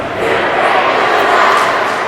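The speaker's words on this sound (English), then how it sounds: "Somerset-Berkley's crowd with the "You Can't Do That" chant" Home crowd at a Somerset-Berkley Raiders vs Diman Bengals high school hockey final chanting together in a dense, steady roar of many voices, filling the rink continuously at close range.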